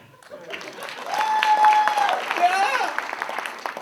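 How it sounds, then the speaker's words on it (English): An audience at a clean stand-up comedy show claps and cheers, building from quiet to a lively burst with voices calling out over the applause. "Yeah, clap."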